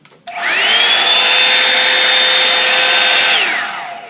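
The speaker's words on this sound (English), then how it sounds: "Here's what cool sounds like." A Revlon Salon One-Step Hair Dryer and Volumizer on its cool setting switches on and runs as a loud, steady close-up whoosh with a thin high whine, then winds down after about three seconds.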